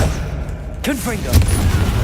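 A single Confringo blasting-curse spell in Hogwarts Legacy goes off with a sharp crack and a short burst of explosive rumble, with spoken voices close by.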